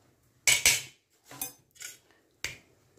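A spoon clinks and scrapes in a pan, mixing cumin and coriander powders into the masala for a bitter gourd (kakrol) fry, in four short bursts separated by brief pauses, with no talking.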